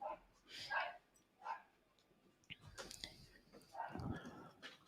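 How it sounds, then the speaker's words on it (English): Dogs barking outdoors in several short bursts, moderately distant and fairly loud, with a person talking at times between and over the barks. "There's some crazy dogs outside right now."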